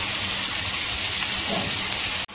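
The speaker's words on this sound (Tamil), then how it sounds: "இப்போ கொஞ்சமாக வந்து தண்ணி சேர்த்துக்கிட்டேன்." Water poured into crab curry cooking in a pan, a steady loud gush running almost the whole time and cutting off abruptly near the end.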